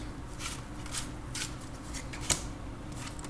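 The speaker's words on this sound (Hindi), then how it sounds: "Love area and career दोनों के लिए 3 कार्ड्स निकालेंगे हम।" Tarot cards are shuffled and drawn in a quiet room, with soft, repeated riffling bursts and a few light card snaps close by.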